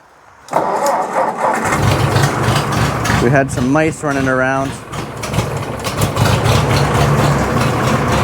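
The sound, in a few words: Ford 8N tractor engine starting and idling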